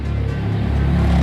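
Husqvarna Svartpilen 401 motorcycle engine idling with a steady, close low rumble and slight swells in loudness, running continuously without speech.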